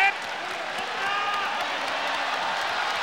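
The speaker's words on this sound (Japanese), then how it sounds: "ファンはもう大歓声、大応援団に変わっている" A professional wrestling arena crowd at an All Japan Pro Wrestling tag match in Ryogoku roaring and cheering, a dense sustained wall of crowd noise with an excited commentator talking over it.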